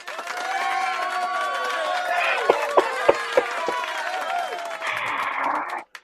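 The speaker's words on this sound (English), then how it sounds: "that's the studio audience crowd" A studio audience crowd effect, a steady wash of cheering, chatter and whoops with a few sharp claps and shouts, ending abruptly after about six seconds.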